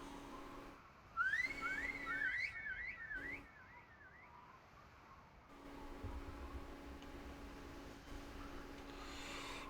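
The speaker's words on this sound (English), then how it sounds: "The long whistle pierced through the woods" A long warbling whistle rises and falls several times in quick succession, then fades and echoes away through the woods over a low steady hum.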